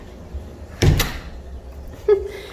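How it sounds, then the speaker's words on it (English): A house door is shut with two muffled thuds about a second apart, the second a sharper latching click, against quiet room background. "I'm going to close the door behind her."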